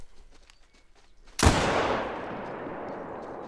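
A single heavy rifle shot from a .577-450 Gondar rifle in the hunting game theHunter: Call of the Wild, a sudden loud boom about midway through, then a long rolling echo that fades slowly, with quiet ambience beforehand.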